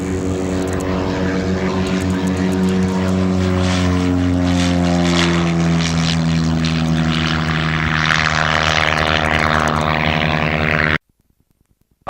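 A Cessna 400 light propeller airplane takes off from Auburn, its engine droning loudly and steadily from the cockpit with rising and shifting harmonic tones for about eleven seconds, then cutting to near silence.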